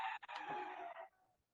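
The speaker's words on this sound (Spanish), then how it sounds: "Entonces, escuchan gallos" A rooster crows once in a single drawn-out call lasting about a second that fades away at the end, faint and distant against otherwise quiet surroundings, with no speech.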